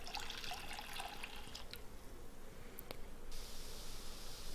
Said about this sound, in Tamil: கடாய் வந்து சூடானதுக்கப்புறமா நம்ம எடுத்து வச்சுருக்கிற 2 கப் தண்ணியை சேர்த்துக்கலாம்